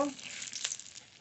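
A bay leaf dropped into hot mustard oil in a kadai for a chicken curry gives a quick burst of sizzling that settles into a steady close hiss, faint and alone.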